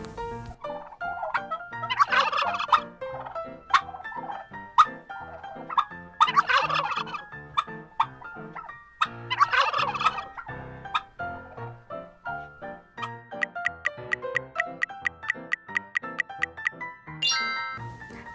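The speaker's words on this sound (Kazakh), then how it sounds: "Дұрыс, күрке тауық." A turkey gobbles in three loud bursts over a looping xylophone-like melody, followed by a run of chiming bell notes.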